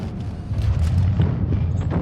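A tank exploding in the online game World of Tanks, a dense low boom and rumble that rolls on for about two seconds with crackling debris above it.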